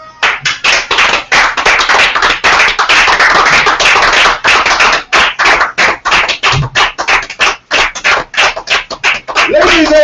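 Audience clapping on a wrestling podcast, loud, dense and steady for about ten seconds, with sharp individual claps standing out over the continuous wash and a few voices mixed in.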